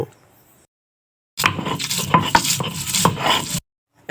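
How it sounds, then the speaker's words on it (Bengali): Onion is ground into a paste on a grinding stone, a close, rough rubbing and scraping burst lasting about two seconds, with a few sharp knocks, framed by near silence. "এখন আমি পেঁয়াজটাও বেটে নিব"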